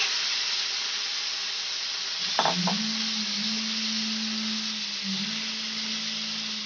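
Black chickpeas tipped into a pot with a short rattling clatter, then a steady bubbling simmer and stirring over a constant broad cooking hiss, fairly close and moderately loud.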